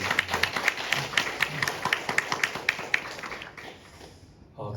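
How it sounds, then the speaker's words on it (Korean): A church congregation gives a round of steady rhythmic clapping at a close, moderate level, which stops near the end. "하나님께 크게 한번 박수 한번 드리겠습니다"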